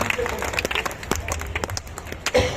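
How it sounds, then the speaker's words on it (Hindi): Crowd at an outdoor political rally in Bahadurganj, Bihar, claps in a loose, uneven patter under a loud speaker's voice, fairly close and busy. "अब बजा लो ताली जिसको जिसको बजाना है"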